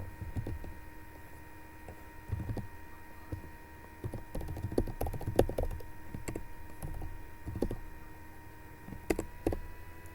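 Keys on a computer keyboard click in irregular bursts during network configuration, a steady close patter of keystrokes over a constant electrical hum, with no voice.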